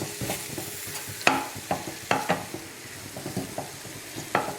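Food stirred in a sizzling pan, soaked moong dal mixed into ponnanganni keerai poriyal, with a spatula scraping and clacking in irregular strokes over a soft, steady frying hiss.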